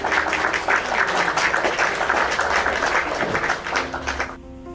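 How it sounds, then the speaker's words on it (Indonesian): Audience applause rises as a thick, continuous clapping, loud and close, holding for about four seconds before cutting off abruptly. "Tepuk tangan buat Jufri yang cakep dan manis"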